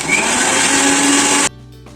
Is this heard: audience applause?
no